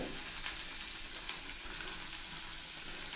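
Cardamom, cloves, cinnamon and onion frying in hot oil in a pan, a steady soft sizzle that holds constant throughout, heard alone without talk.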